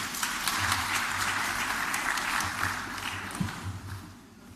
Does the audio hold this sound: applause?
yes